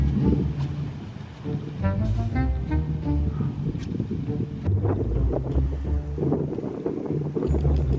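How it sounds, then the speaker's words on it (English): Gusty wind buffets the microphone on a narrowboat at night, a low rumble that rises and falls continuously, with faint tonal creaks and knocks in the background. "It's really windy."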